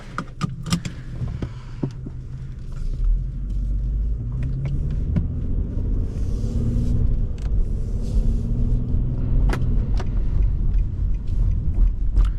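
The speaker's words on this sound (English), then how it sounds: "So setting off in this Infiniti G37x" A 2011 Infiniti G37x sedan sets off and drives, its low engine rumble building under a few clicks and interior knocks, heard from inside the cabin with no talking.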